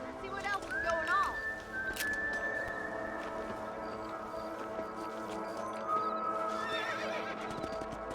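Horses in the video game Red Dead Redemption whinny loudly several times over a steady clip-clop of hooves, with game dialogue and ambient sound running underneath.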